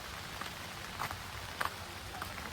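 Steady rain falling outdoors during a monsoon pilgrimage walk, an even, soft hiss with a few faint drips and taps, fairly quiet and with no voices.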